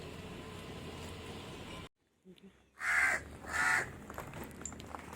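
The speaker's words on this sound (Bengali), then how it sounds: "কাকগুলো কেমন ডাকছে দেখো" After a brief drop to near silence, two loud crow caws ring out in quick succession outdoors against faint background noise.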